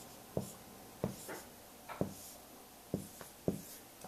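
Numbers written by hand during a percent math lesson, heard as five or six distinct pen strokes spaced about a second apart, each a short scratchy burst at close range against quiet background, no voices.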